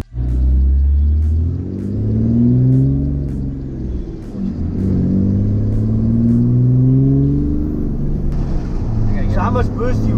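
A Cummins diesel truck engine with a turbo revs and rumbles loudly close by, rising and falling in long surges, with voices heard over it.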